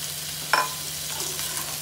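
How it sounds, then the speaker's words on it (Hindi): Potatoes and onions frying in a pan for an aloo bathua burgi, a steady soft sizzle with one brief scraping clink near the start, no voices. "तो आलू नू भी आप पाँच मिनट फ्राई करांगे नाल ही जी प्याज दे"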